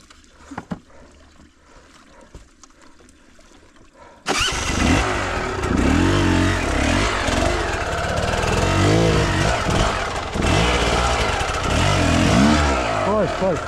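A motor engine is started outdoors by a stream after a quieter stretch with voices, then runs loud and steady with uneven revving and rattling for the rest of the clip.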